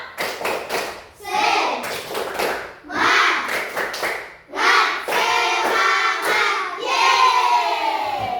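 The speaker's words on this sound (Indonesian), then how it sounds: "Coba tepuk semangat" Children in a school lesson perform the 'tepuk semangat' spirit clap, with rhythmic bursts of claps alternating with loud group chanting in several rounds.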